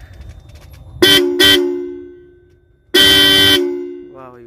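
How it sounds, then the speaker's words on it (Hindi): An aftermarket horn fitted to a JCB 3DX Xtra backhoe loader sounds in two short blasts, then one longer blast, loud and close, with someone speaking faintly in between. "तो दोस्त 2000 रुपये के ये हॉर्न आपको मिल जाएंगे।"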